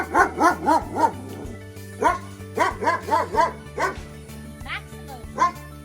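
Max, an 8-month-old puppy named Maximus, barks in loud close bursts, rapid runs of several barks with short gaps, mixed with a few yips, beside ruins of old Kathkuni architecture.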